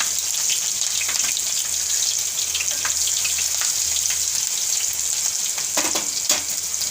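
Ginger, green chilies and asafoetida sizzle briskly in hot oil, a dense continuous hiss with scattered pops and crackles throughout, close and fairly loud.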